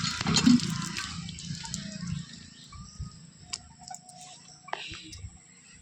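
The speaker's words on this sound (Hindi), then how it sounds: "यहाँ पर देखिए नलका है, पैर धो रहा है।" Water runs from a tap as feet are washed, a splashing gush loudest at the start and then settling into a quieter trickle with scattered drips.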